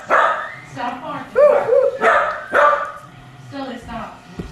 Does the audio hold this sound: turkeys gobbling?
no